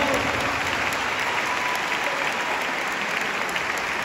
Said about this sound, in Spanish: Denle un aplauso de certeza a Dios.